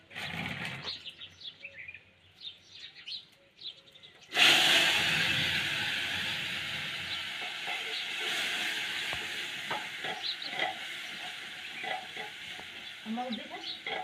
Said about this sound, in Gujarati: હવે આપણે દાળ વઘાર નાખો